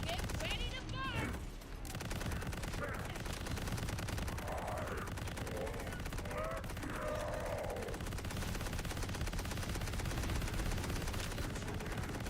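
Rapid gunfire from a gadget weapon in the game Borderlands rattles continuously over a dense, loud game soundscape, with a voice talking briefly underneath.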